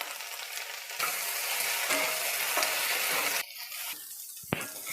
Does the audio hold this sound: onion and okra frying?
yes